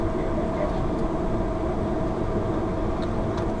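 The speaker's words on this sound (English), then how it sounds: "the train's finally starting to turn in a westerly direction" Amtrak Southwest Chief passenger train running through flat desert country near Albuquerque, heard from inside as a steady, loud rumbling roar with faint rattles and clicks throughout.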